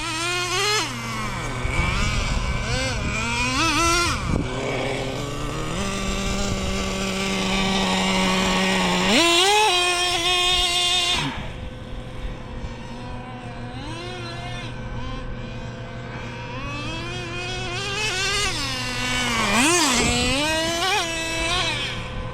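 A Traxxas Jato 3.3 nitro RC car engine screams and buzzes loudly, rising and falling in pitch as it revs, holds steady, then surges again through repeated throttle bursts.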